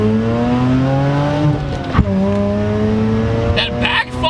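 Mazda RX-8 with a 1.3-liter rotary engine revving, a smooth high-pitched sustained engine tone that rises, dips and climbs again, with a sharp pop near the middle, loud and close, with a voice briefly present.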